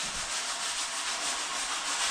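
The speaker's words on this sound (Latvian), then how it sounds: "Ar savu smilšu papīru." Sandpaper rubbed by hand over a wooden board, a steady, fairly quiet, continuous scratchy hiss with a faint back-and-forth pulse throughout and no talking.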